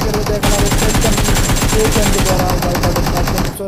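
Automatic gunfire in the video game PUBG Mobile during a tournament match: loud, rapid, continuous bursts of shots fill nearly the whole stretch, close and dense.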